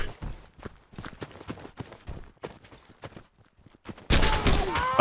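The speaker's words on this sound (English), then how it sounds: "It's so hard to try to talk and shoot at the same time." Rapid irregular gunfire and thuds in the World War II video game Darkest Hour, scattered sharp cracks near and far, ending in a sudden loud burst of noise.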